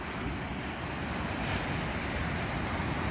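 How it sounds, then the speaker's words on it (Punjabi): Continuous roar of rough surf breaking on the beach at Salerno, Italy, with waves washing far up the shore, dense and loud throughout, with wind rushing over it and no voices. "ਬਹੁਤ ਐਕਟਿਵ ਹੈ ਛੱਲਾ ਦੇਖੋ ਕਿੱਡੀਆਂ ਆਉਣੀਆਂ ਪਾਣੀ ਬਾਹਰ ਤੱਕ ਵੱਜਦਾ"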